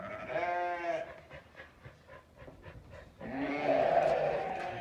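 Sheep bleat loudly and close, one long wavering call, then shuffling and panting, then several overlapping bleats from a flock.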